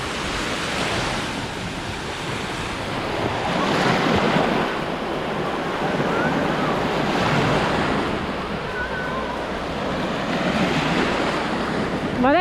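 Sea waves wash ashore on a beach at Dzhemete in Anapa, rolling in slow repeated swells of surf with wind rushing over the microphone, loud and continuous, with no voices.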